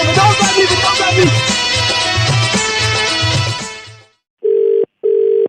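A telephone call connects on a radio prank show, a busy tonal stretch fading out before two loud, evenly spaced ring tones sound alone.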